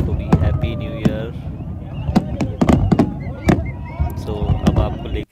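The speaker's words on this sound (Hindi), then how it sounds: "हमारे बैकग्राउंड में कितने प्यारे पटाखों के साथ में नए साल की शुरुआत हो रही है" Fireworks bursting over a New Year celebration crowd in Dubai, with sharp cracks and pops repeating irregularly over a dense, noisy background of crowd chatter and voices.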